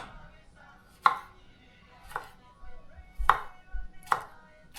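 A knife dicing tomatoes on a cutting board, with four or five sharp, spaced chops knocking against the board at an unhurried rhythm, close and clear against a quiet room.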